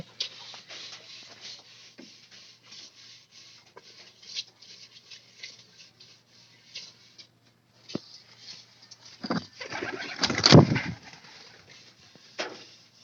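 Nesting pigeons with newly hatched chicks give faint, intermittent soft coos amid rustling and shuffling in a quiet loft, with a louder flurry of movement near the end.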